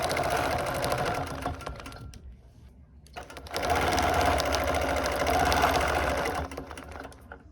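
A sewing machine runs quilting stitches in two long, fast, steady bursts with a brief near-silent pause between them, the motor whirring loudly and close.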